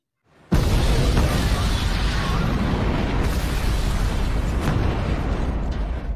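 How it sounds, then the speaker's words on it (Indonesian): A film bomb blast tears through part of a building: a sudden loud onset then a sustained, dense roaring rumble with debris-like crackle that stays heavy and close for several seconds. "Tiba-tiba sebuah bom meledak dan membuat sebagian gedung hancur"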